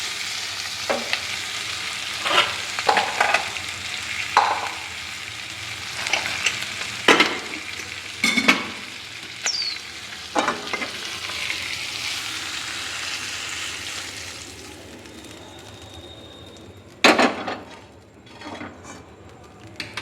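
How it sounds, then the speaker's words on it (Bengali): Paneer sautéed lightly in a pan gives a soft frying hiss, broken by sharp scraping and stirring strokes from a spatula. The hiss fades toward the end. No one speaks. "জাস্ট একটু সতে করে নেব"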